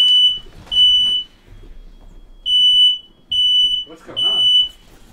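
A fire alarm in a room gives five sharp, high-pitched beeps in an uneven rhythm, loud and close, while people talk between and under the beeps.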